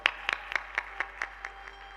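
Faint, evenly spaced claps, about nine in two seconds, sound at a religious discourse as a guest is honored, quiet and rhythmic rather than a full roar.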